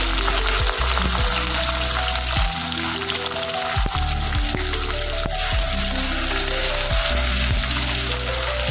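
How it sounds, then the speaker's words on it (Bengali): Diced potatoes frying in hot oil, a dense continuous sizzle and crackle close by, with occasional stirring knocks in the pan. "একটু লাল লাল করে ডুমো করে কাটা আলুগুলোকে আমরা ভেজে নেব"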